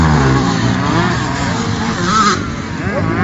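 A car engine revving at a motocross event in João Pessoa, loud, close and fluctuating with a sharp rising whine midway, amid crowd noise and a talking voice.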